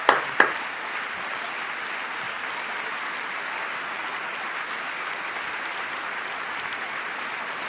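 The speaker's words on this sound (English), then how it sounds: "Give that one a loud clap." Sustained crowd applause fills the clip evenly after two sharp claps at the start, a large audience clapping steadily.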